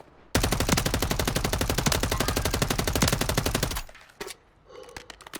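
Sustained automatic machine-gun fire in Warzone 3, a rapid unbroken stream of loud shots for about three and a half seconds, then a brief burst of quieter game sounds and clicks.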